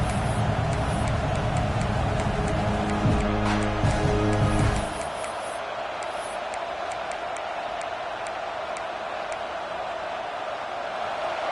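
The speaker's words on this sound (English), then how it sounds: "Listen to this crowd just shaking the girders of this place, trying to help their defense" Stadium crowd roaring in the NCAA 26 college football video game, a loud sustained rumble that fills the first few seconds and then drops abruptly to a quieter background murmur.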